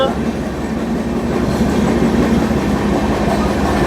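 Darjeeling Mail passenger train running between Sealdah and New Jalpaiguri, a loud steady rumble of wheels on rails with rhythmic clatter from inside the coach, continuous throughout.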